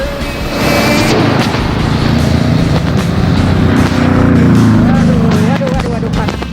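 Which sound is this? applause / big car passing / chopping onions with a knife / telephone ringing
big car passing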